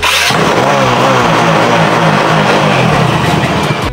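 A motorcycle, borrowed from the rider's father, runs loud and close with a steady engine drone and shifting revs throughout, with no talk over it.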